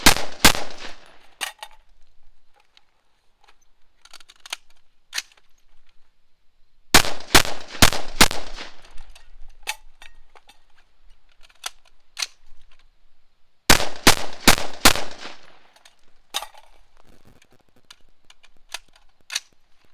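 Gunshots ring out at a shooting range in three rapid strings of loud, sharp cracks, split by quiet pauses for magazine changes with faint clicks and handling noises; nobody speaks.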